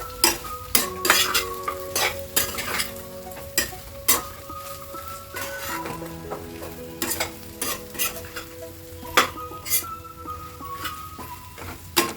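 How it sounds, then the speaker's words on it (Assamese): Chillies for a spicy pork pickle fry on low heat while a metal utensil stirs and scrapes the pan, giving repeated sharp clinks over a soft continuous sizzle, close up and without talk. "এনেধৰণে কম জুইত আৰু অলপ সময় ভাজি লওঁ।"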